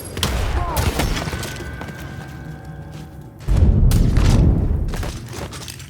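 Gunfire and heavy booms from the video game Mafia 3 fill the mix, loud blasts and thuds with a sharp surge midway, mixed with game effects and a few voice sounds.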